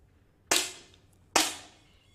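Two sharp 10m air rifle shots about a second apart, each a crisp close crack with a short decaying tail, fired during a prone shooting competition for visually impaired athletes.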